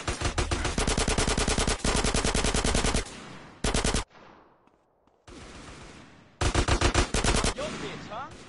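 Rapid automatic gunfire from a GTA San Andreas shootout, loud close bursts of machine-gun fire broken by brief pauses and a near-silent gap before another long volley.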